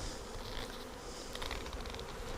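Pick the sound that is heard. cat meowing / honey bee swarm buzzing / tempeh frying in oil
honey bee swarm buzzing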